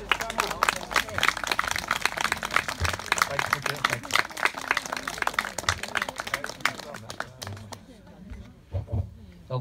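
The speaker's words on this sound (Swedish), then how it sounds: "En riktigt stor applåd till de här fantastiska" An outdoor concert crowd at Örtagården on Öckerö gives a band loud, dense applause that fades over the last few seconds, with someone speaking over the clapping.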